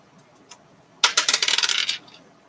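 Dice are rolled. After one faint tap, a close, rapid clattering rattle runs for about a second before stopping abruptly, with no voices.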